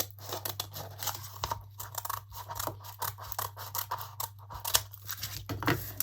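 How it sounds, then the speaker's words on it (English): Scissors snipping through a sheet of decorative tiles for an upcycled picture frame, close repeated crisp cuts and rustling scrapes over a low steady hum, no talking. "So I'm going to cut off these 4 tiles."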